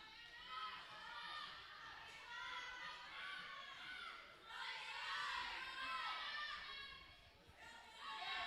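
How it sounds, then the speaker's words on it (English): A crowd at a high school all-girl wrestling tournament in Alabama yells and cheers, many high-pitched voices shouting in overlapping waves throughout, fairly near and steady in level. "Apparently it's Lisa versus Hannah, according to the crowd yelling."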